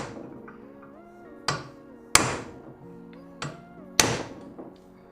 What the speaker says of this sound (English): I just had a go at it with the cold chisel and it split